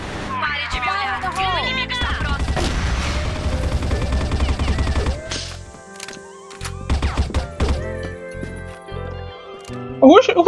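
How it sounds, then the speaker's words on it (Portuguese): Gunfire bursts from a shooter video game, including spray fire, sound under excited talk from a player, with loud sustained shooting in the middle and sharp scattered shots near the end. "Ele dá tiro aleatório, cara."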